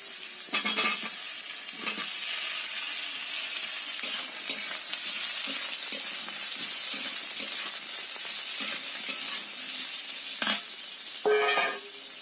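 Boiled ash gourd frying in a pan with dried red chilli and black cumin, a steady close sizzle with stirring and occasional clinks of a utensil against the pan throughout.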